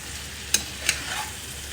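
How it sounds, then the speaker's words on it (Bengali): Vegetables and dried ribbonfish frying together for a curry, with a steady low sizzle and two brief sharp scrapes of stirring. "একসাথে দিয়ে একটু কষিয়ে নিব"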